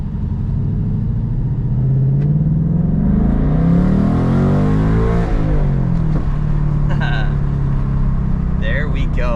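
A 2024 Ford Mustang GT accelerates in a gentle pull, its deep engine rumble rising in pitch and swelling loud before easing off, with a person talking briefly near the end.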